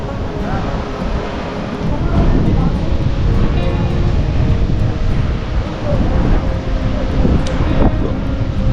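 Strong wind buffets the microphone and sea waves roll in on a beach under cloudy skies at Mandarmani, a loud continuous roar that swells partway through.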